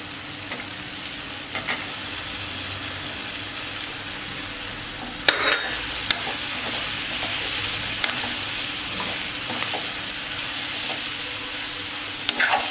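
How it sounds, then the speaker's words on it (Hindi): Paneer pieces being stirred into fenugreek (methi) sabzi in a hot pan, a steady loud sizzle with occasional clinks and scrapes of the spoon against the pan throughout. "और अब हम इसके अंदर ये जो पनीर के पीस हमने करके रखे थे, तो इसमें पनीर मिला देंगे हम।"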